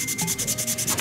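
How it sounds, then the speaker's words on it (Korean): A sponge sanding pad rubs back and forth across a plastic Gundam model kit surface, producing a rhythmic series of soft, close scratchy strokes, about ten in quick succession. "스펀지 사포는 전체적인 면을 다 문질러 주시면 돼요."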